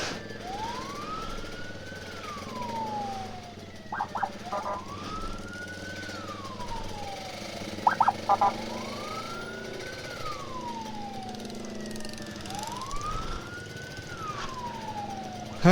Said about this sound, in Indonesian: Kita ikut ambulans.